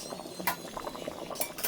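Shorputi fish gravy simmers in a pot, soft bubbling under light clinks of a lid and utensil against metal, with a couple of sharper taps, fairly quiet and close.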